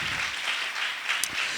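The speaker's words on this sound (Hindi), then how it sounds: "जोरदार ताली एक दफा उसके जलाल के लिए" Church congregation at a sermon clapping loudly together, a dense, steady wash of applause with no talk, brief and fairly close.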